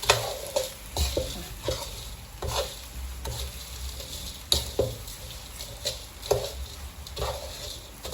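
Garlic and shallots are stir-fried in a pan, with a steady sizzle and frequent sharp spatula scrapes and clacks recurring every half second or so, close and fairly loud.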